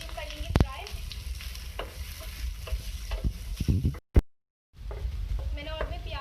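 Chopped green chillies and onion sizzle and get stirred in a pan for an aloo paratha filling, steady frying crackle with a few sharp clinks, a brief cut to silence midway, and faint speech underneath.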